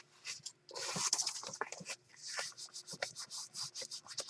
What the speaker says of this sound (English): just rubbing my bone folder right here where the spine is